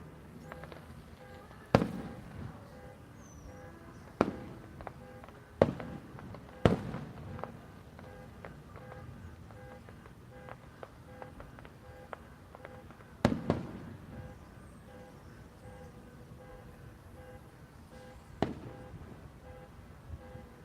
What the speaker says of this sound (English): oh, fireworks are going off over here